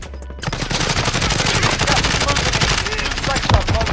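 Dense automatic gunfire in the battle royale shooter Call of Duty Warzone, a loud rapid stream of close shots with a few heavier hits and faint voices underneath.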